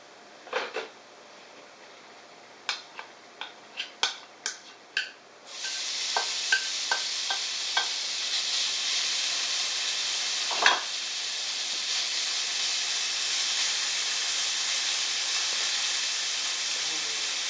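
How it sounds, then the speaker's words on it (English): A few clinks of a utensil against a pan, then a loud, steady crackling sizzle of frying bacon continues close by. "Nothing like frying bacon."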